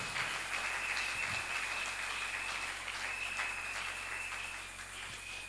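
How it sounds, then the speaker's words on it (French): A church congregation claps together during a Sunday service, a steady wash of applause that holds for several seconds, then slowly thins and fades. "Acclamons pour le Seigneur."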